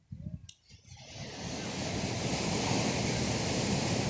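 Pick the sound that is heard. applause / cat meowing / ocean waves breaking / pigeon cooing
ocean waves breaking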